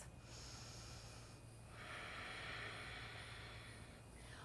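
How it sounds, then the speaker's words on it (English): Deep, slow breathing during a yoga session in side angle pose, a long audible exhale rushing through the nose, close to the microphone over a steady low background hum. "Let's take 3 deep breaths."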